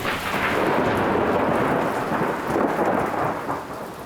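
Heavy rain pours down on a stormy day with rumbling thunder, a dense, loud, continuous wash of rainfall that swells and eases slightly, with no voices.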